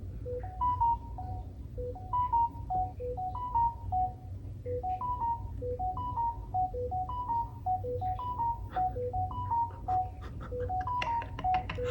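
Reddit notification chimes on an Android phone, a short two-tone alert repeating in rapid, steady succession over a low background hum, close and clear.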